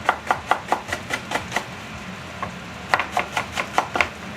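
A kitchen knife chops an onion on a cutting board while making miso soup, sharp rhythmic knocks in a quick run of about eight, a short pause with one stray tap, then another fast run of strokes.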